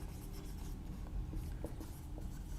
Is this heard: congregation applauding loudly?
no